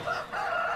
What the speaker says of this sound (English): let's go sort these chickens out, because they're not giving me a break